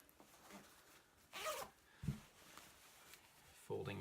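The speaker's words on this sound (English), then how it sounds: "We'll then take the jacket and we'll zip it up and fold it like a package" A puffy insulated jacket is zipped up in a couple of brief, soft zipping strokes, close but quiet, with light rustles and handling thumps between them.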